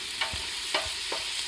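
Bacon and leeks are being sautéed in a soup pot over medium heat for a potato, bacon and leek soup. A soft steady sizzle runs throughout, broken by a few scraping stirs of a spoon against the pot. No one speaks.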